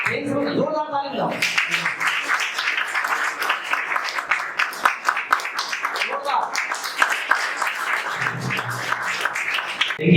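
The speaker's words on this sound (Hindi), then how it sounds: "जोरदार ताली बजाओ।" An audience at a coaching institute's Carewell farewell program claps loudly for a teacher, a dense sustained burst of applause lasting several seconds, with a voice talking at the start and again near the end.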